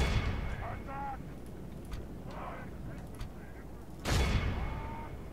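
Crossbowmen loose volleys on a battlefield in a Third Age medieval strategy game, heard as a dense crackle of shots and impacts over constant battle roar, with a sharp loud burst near the end.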